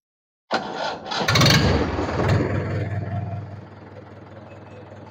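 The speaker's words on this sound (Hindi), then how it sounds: "ये ट्रैक्टर मैंने स्टार्ट किया" A tractor engine cranks and catches, firing up with a rough roar that swells then settles into a steady, chugging idle, heard close up after the tractor had been submerged in water.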